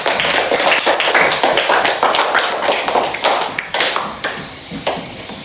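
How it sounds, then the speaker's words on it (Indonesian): A classroom group claps together in quick, dense applause, steady and fairly loud, tapering slightly near the end. "beri tepuk tangan untuk kelompok 3"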